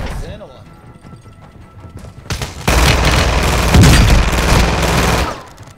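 Rapid bursts of gunfire in Call of Duty: Warzone 2 erupt and grow loud and dense, including hip-fire shots, with a voice talking over the shooting.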